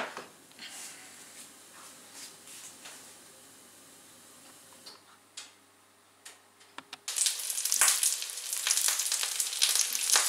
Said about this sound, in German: Die müssen jetzt noch gut durchbraten, bevor ich sie wenden kann.